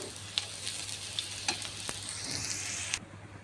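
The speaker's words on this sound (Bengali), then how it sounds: "কড়াইতে চিংড়ি মাছ দিয়ে আমি একটু পানি দিয়ে দিয়েছি।" Shrimp cook in a wok with a little water, salt and turmeric, giving a constant close hiss and sizzle with a few light clicks of stirring, then cutting off abruptly.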